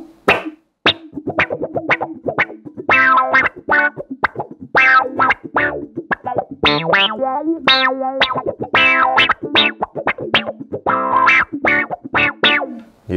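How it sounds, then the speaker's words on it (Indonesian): Electric guitar run through a Qtron envelope filter pedal, quick funky plucked notes and chords with a vowel-like quacking sweep on each attack, loud, busy and rhythmic, no voices. "Qtron nyala."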